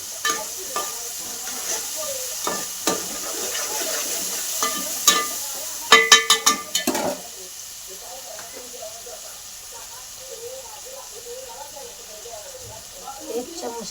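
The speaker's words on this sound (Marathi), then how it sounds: "ही पण चांगली परतून घ्यायची तेलामध्ये." A ground spice paste fries in hot oil for mutton-style keema, hissing and sizzling steadily while a spoon scrapes and stirs, including a quick burst of sharp clattering strokes midway; a person talks over the cooking.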